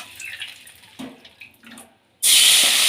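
Water poured into a cooking pan while making a lemon appehuli, a sudden loud steady splashing rush that starts partway through after quieter kitchen clinks and clatter.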